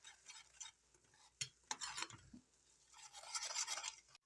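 Wheat flour frying in a pan for a sauce, a faint soft crackle with scraping stirring strokes and a few brief clicks, close and quiet.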